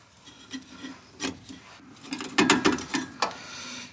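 Fittings on a Duramax diesel fuel filter housing are snugged down with a wrench, making short rubbing, grinding clicks in an uneven cluster that grows busier toward the end, close and fairly quiet.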